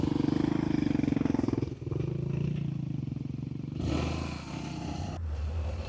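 BMW 1200 GS motorcycle climbing a soft, muddy off-road trail, its engine note steady and close with a brief dip, then a harder surge near the end, plus scattered clatter and scrape from the terrain.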